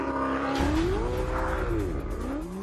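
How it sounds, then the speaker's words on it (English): A Ferrari 488 lapping a race track, its engine loud and close, revving up and down through gear changes in a continuous high-pitched howl. "we've got a bit of a performance benchmark, a Ferrari 488"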